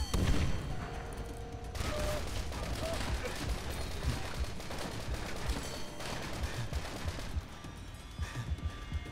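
Machine gun fire rattles steadily throughout in the video game Call of Duty World at War, dense overlapping bursts at moderate volume with a voice faintly mixed in.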